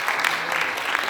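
A short burst of audience applause at a gathering greeting a seated writer, dense clapping heard alone for about a second.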